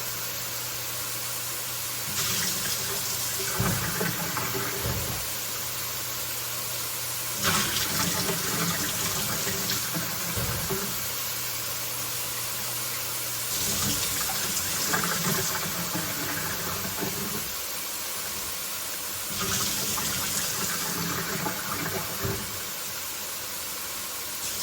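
Tap water running steadily into a pot or measuring cup in a kitchen, filling water for ramen broth, in several bursts with brief pauses between pours.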